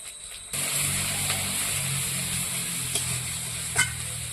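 Mustard paste with chili powder, turmeric and salt sizzling and being stirred in a hot pan for a fish egg and bitter gourd mash, a steady close frying hiss with a few scraping clinks of the spoon.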